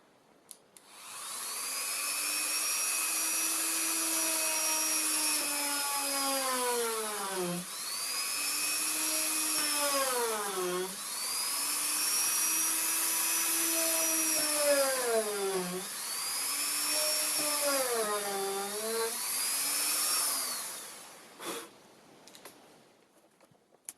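A small high-pitched power drill with a 1.5mm bit whines continuously while drilling RC model aircraft hinges, its pitch dipping and recovering several times as it bites into material.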